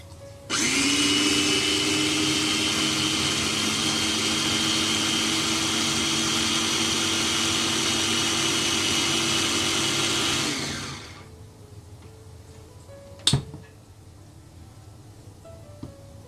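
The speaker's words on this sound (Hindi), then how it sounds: "अब हमारे पास जो ये बेसन है इसको हम इस लस्सी में डालेंगे और ब्लेंड कर लेंगे" An electric blender runs steadily for about ten seconds, whirring loud and close as it mixes gram flour into lassi, then cuts off abruptly, followed by a single sharp knock.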